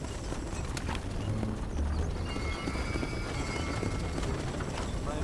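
Horses ridden in a video game give a steady, fairly close clip-clop of hooves under a busy background, with a brief whinny among the hoofbeats.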